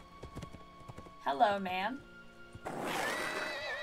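A horse in a Lego Lord of the Rings video game gives a shaky, wavering neigh after a run of light hoof clip-clops, followed by a rushing noise, with a voice speaking briefly over it.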